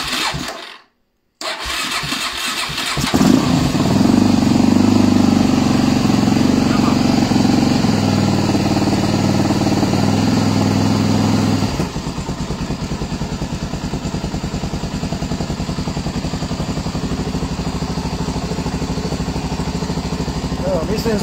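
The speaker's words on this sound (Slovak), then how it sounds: "Motor len tak šušti." A motorcycle engine started up after a brief silence, then idling steadily and fairly loud, its note dropping to a calmer, even idle partway through, with a voice talking occasionally over it.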